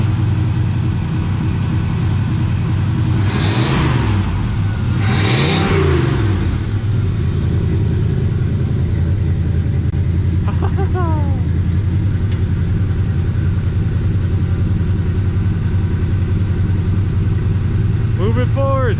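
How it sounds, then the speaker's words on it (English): A 1970 Chevrolet El Camino V8 with newly welded Flowmaster exhaust rumbles steadily with a loud, deep note, revving twice early on before holding a throaty idle; faint squeaks and voices occur later. "I did weld up some exhaust on here, so yeah, let's hear it."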